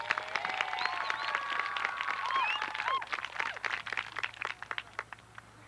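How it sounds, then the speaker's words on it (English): A school audience cheering and applauding at a medieval joust show, with bright excited children's shouts and squeals over a burst of clapping that swells, then thins toward the end. "let's raise a cheer for the Green Knight and Don Paco."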